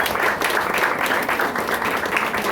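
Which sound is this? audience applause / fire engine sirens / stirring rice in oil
audience applause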